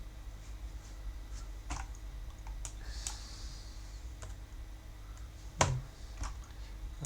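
Typing on a computer keyboard, a sparse run of quiet key clicks and taps in a calm room, with a few sharper strikes scattered through and one louder clack near the end.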